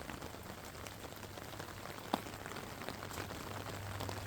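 Rain falls on garden plants, a dense, even hiss of drops pattering steadily throughout, with one brief sharper tap in the middle.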